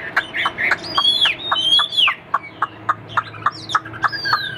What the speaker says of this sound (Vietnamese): Chim hót rất là tốt